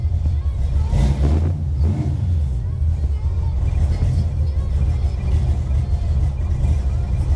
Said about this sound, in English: Seems to be idling all right on its own already.